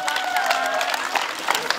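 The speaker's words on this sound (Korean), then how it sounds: "박수." Audience applause and cheering after a madang outdoor folk play at a national garden's herbal experience center, dense clapping over a crowd, with a voice talking over it.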